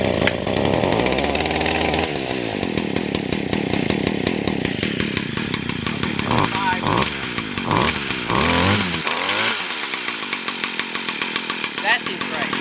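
A $50 gas weed whacker engine starts and runs loudly close by, its raspy two-stroke buzz rising and falling with throttle changes while people talk over it.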